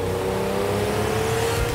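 1985 Ferrari with a 5-litre V12 running with a steady, dense mechanical roar that holds at a constant level through a short moment, with no speech.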